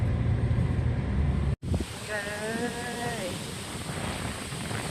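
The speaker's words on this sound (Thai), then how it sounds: "ดูให้เสียงลมสุดยอด" Strong wind at a temple in Chonburi, Thailand, buffeting the microphone in a loud continuous roar that cuts out briefly. A short voice-like tone sounds partway through.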